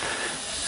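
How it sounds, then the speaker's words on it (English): A Theo Jansen strandbeest walking toward the sea lets out a steady, loud, close rush of running air, an unbroken broadband hiss with no pauses. "sound of running air."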